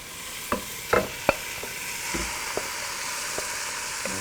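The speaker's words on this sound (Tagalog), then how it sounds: "Just saute this for a little bit and then we're gonna start adding our ground beef" Ground beef sautéing for chili con carne, a soft steady sizzle broken by a few sharp scrapes and clinks of a spoon stirring in the pan, close and alone without talk.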